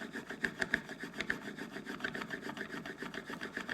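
Spokeshave blade being sharpened on a super fine 1200-grit stone, a soft, rhythmic rubbing and scraping with repeated back-and-forth strokes, close and fairly quiet, with no talking.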